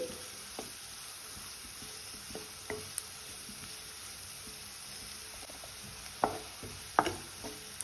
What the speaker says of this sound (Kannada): ನೋಡಿ ಫ್ರೆಂಡ್ಸ್, ಈರುಳ್ಳಿ ಸಹ ಫ್ರೈ ಆಗ್ತಾ ಇದೆ.